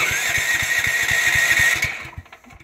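A generator engine cranks over with no choke set, a steady thudding pulse repeating under a loud mechanical whine, then cutting out and fading into scattered quieter knocks near the end.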